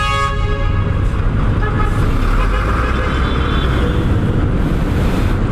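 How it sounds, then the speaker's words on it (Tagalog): A loud truck horn blares in a long sustained blast over road traffic noise, close and dominant throughout. "Lakas talaga ng busina ng truck."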